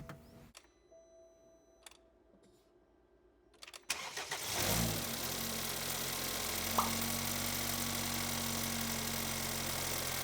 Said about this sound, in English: So this may take a little bit of cranking to get the fuel back into the injectors and for the engine to start.